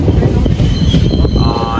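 Passenger train travelling on the line to Coimbatore, a loud continuous rumble of wheels and carriages with a faint metallic squeal, heard close from on board.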